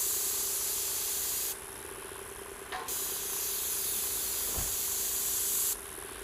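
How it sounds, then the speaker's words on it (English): Low pressure sprayer fitted with a 515 tip applying roof coating, a steady close hiss of spraying that drops and resumes in bursts, with a brief tap partway through and no voices. "We use the low pressure so we don't get as much overspray and the 515 tip."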